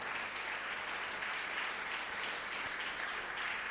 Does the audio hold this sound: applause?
yes